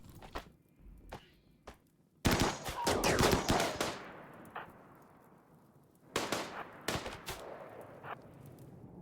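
Bursts of automatic gunfire in a video game set on a dead planet, with a loud sustained volley of rapid shots, a second flurry later, and scattered single shots between them.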